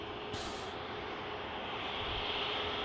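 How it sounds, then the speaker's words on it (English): A Jet2 Airbus A321neo airliner starts its takeoff roll at Manchester Airport, a distant steady engine roar under wind and broad outdoor rumble, with no talking. "Jet2 21 Neo on the roll. Heading out to Tenerife."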